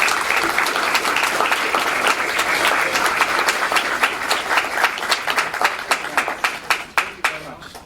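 An audience applauds to welcome poet Rick Barot at a university poetry prize reading, starting as dense sustained clapping that thins toward the end into sparser individual claps.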